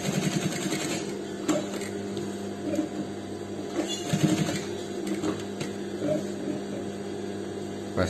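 Sewing machine stitching a pointed button placket on fabric, running in a steady hum with a faint rhythmic whir and a few soft clicks throughout.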